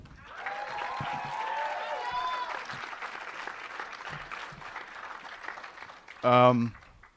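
An audience at a poetry reading event gives a sustained round of applause for the host, steady and fairly close throughout, with a few voices mixed in and a louder vocal burst near the end.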